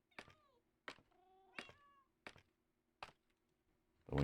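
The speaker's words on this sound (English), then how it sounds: "when you hear the cats, you know you're near the top" Cats in the Minecraft video game meow several times in a row, each short, clear cry separated by pauses, with faint thunks between them in an otherwise quiet scene.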